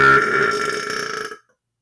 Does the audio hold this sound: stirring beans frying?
no